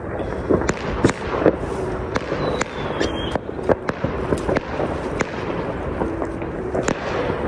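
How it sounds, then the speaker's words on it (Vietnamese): Firecrackers go off outdoors at a Vietnamese ancestral grave site during a tomb-sweeping visit, a steady string of sharp, loud pops and cracks at irregular intervals over a noisy background, with no talking. "Giờ sẽ cắm pháo xuống để đốt nè."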